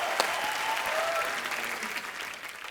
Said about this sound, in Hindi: आप लोग तालियां बजाते रहिए